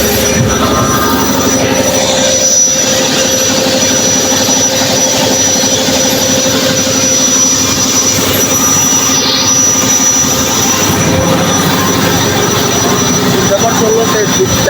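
A loud, steady engine drone fills a ship's engine room, constant and droning throughout with a low rumbling hum, from a 3,200-horsepower gas engine on a large passenger launch.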